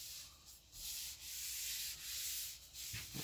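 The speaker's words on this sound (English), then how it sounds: "I've even found that you can sand with this and the stripper." Wood furniture soaked in paint stripper is sanded with long, rhythmic back-and-forth rasping strokes, close and steady, with a few brief pauses between passes.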